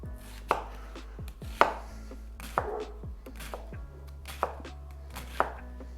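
Knife chopping an onion on a board, six crisp, evenly spaced chops over a low steady hum, close and clear, with no talking.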